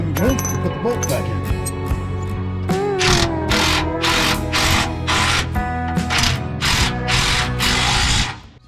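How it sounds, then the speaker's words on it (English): Ratchet wrench tightening bolts on a Jeep cross member, a rapid series of metallic clicking bursts repeating in short strokes, close and loud, with a voice talking around them. "I'll go around the other side and tighten up the other bolts."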